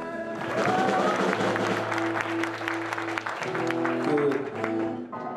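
Audience cheering and applause at a band performance by students and teachers at a school healing concert, heard under ongoing music with sustained tones and drums, with crowd noise steady throughout.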